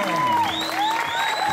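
An audience at a Spiritist youth event applauds in a short, loud burst of clapping, overlaid by sliding whistle-like tones.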